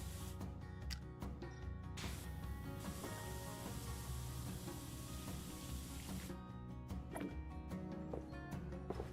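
A pressure washer nozzle sprays continuously in the Powerwash Simulator video game, a steady hissing jet that runs for the whole stretch with small clicks and shifts in tone.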